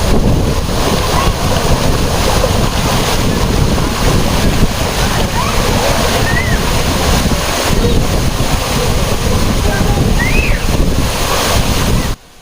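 Waterfall in a forest reached by jungle safari near Chikmagalur: a loud, steady, close rushing roar of falling water throughout, with faint high chirps over it before cutting off at the end.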